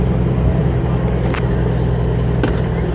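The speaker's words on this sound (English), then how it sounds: "Oh, it's a truck." A truck rolling past nearby at a safari-style park, a loud continuous low rumble of engine and road noise filling the whole moment, with a brief clatter partway through.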